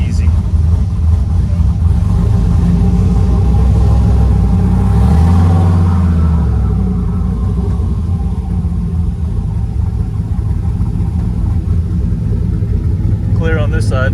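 A turbocharged LS-powered Camaro with a six-speed transmission is driven, its deep engine rumble swelling as it accelerates and then easing back, heard from inside the car with occasional talk.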